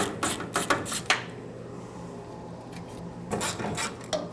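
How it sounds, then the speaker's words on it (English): A 7mm socket backs out the filler neck mounting screws on a 2008-2010 Ford F-250. Short bursts of close ratcheting and scraping come at the start, then a quiet pause, then another burst near the end. "Take a 7mm socket and remove all three of the mounting screws for this filler neck."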